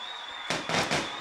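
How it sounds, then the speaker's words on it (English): Fireworks pop in the background at a high school football game, three quick muffled bursts over a steady high-pitched hum. "And the fireworks have started early."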